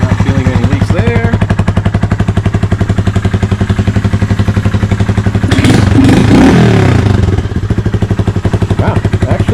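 A motorcycle with an exhaust baffle fitted idles close by, a loud, rapid, steady chugging pulse with a brief rise in rumble midway.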